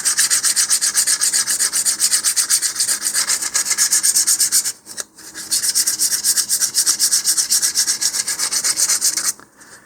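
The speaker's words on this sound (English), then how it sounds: "we can trim that a little bit and just kind of blend it in better using some 320 grit sandpaper here" Rocket fin edges being sanded with 320 grit sandpaper, a steady close rhythmic scratching of quick back-and-forth strokes with two brief pauses, no voices.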